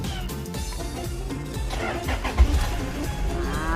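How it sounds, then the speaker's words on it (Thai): A 2014 Toyota Commuter 3.0 diesel van with automatic transmission cranks briefly and fires up, settling into a rough, clattering idle close by. "สตาร์ทครั้งแรกติดเลยป้าค่ะ"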